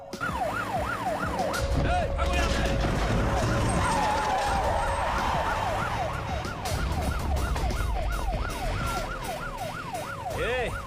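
An ambulance siren wails in rapid, repeating up-and-down sweeps, loud and steady throughout, with vehicle rumble and some background voices underneath.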